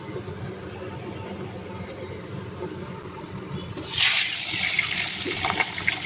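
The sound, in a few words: fish pieces frying in hot mustard oil in a wok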